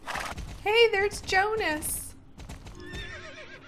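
A horse whinnies in the video game Star Stable, a bright rising neigh repeated twice in quick succession, with faint hoofbeats and game music and a person talking briefly over it.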